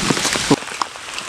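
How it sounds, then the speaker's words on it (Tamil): Rain pours down at an outdoor village cooking spot, a brief, steady, fairly loud hiss of falling drops with a few sharper patters. "இந்த மாதிரி மழை வந்துருச்சு"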